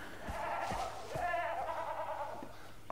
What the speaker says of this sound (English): I just heard goats